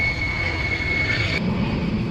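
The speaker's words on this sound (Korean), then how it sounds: "비행기 소리 때문에 잠시 멈췄었습니다." An airplane flies over an outdoor plant nursery, a steady broad engine roar with a whining tone that fills the whole moment at moderate level, with no talk.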